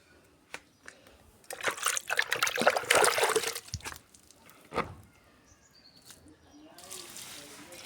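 Water is poured over a potted plant, starting with a few drips, then a loud splashing burst lasting about two seconds, then fading to a softer trickle with faint birds outdoors.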